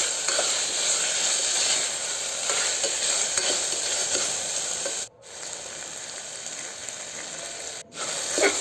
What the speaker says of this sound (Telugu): ఈ టమాటో కూడా బాగా ఫ్రై చేసుకుందామండి